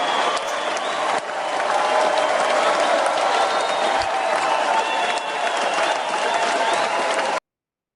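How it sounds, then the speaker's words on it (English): A crowd applauds for about seven seconds, a dense and even wash of clapping at steady loudness that cuts off abruptly. "Everybody give a huge round of applause to MG."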